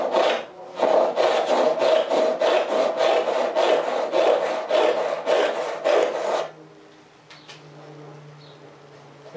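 A cheap tenon saw cuts a starter kerf into a piece of pine, making about a dozen rhythmic, rasping strokes close up before stopping, followed by quiet handling noise.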